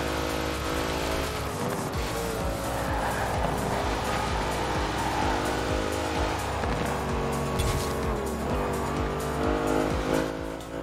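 A Dodge SUV driven in Forza Horizon 4 with a loud, continuous engine drone that shifts in pitch, backed by tire squeal and game sounds, with no talking.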